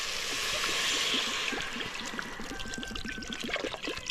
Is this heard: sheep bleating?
no